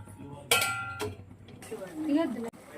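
A metal lid set onto a cooking pot of simmering palak paneer curry gives a bright ringing clang, then a softer second knock, with someone speaking before and after.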